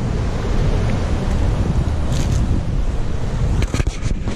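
Swirling sea water washing against a rocky Atlantic shore on Madeira, a steady broad rushing wash with wind buffeting the microphone, loud and continuous, with a few brief splashy bursts near the end.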